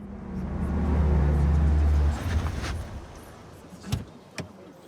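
A car pulls up in the Batman Telltale Series game, with a loud low engine rumble for about two seconds that then fades, followed by a couple of short thumps like a door.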